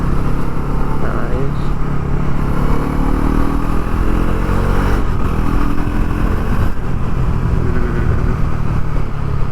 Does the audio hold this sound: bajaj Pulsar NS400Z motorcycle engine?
yes